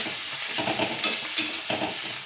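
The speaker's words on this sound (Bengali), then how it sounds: "এই ভেজেছি, আর বেশি ভাজবো না, হালকা ভাজা থাকবে।" Ginger paste and onions fry in a pan, a steady close sizzle broken by a few scraping stirs of a spatula, with no one talking.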